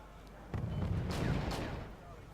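Muffled artillery fire rumbles in a Wargame: Red Dragon multiplayer battle, a dense low booming barrage swelling after a quiet start with a couple of sharper distant blasts and steady battlefield ambience.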